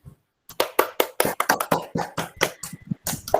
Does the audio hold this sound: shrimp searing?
no